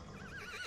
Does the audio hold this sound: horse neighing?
yes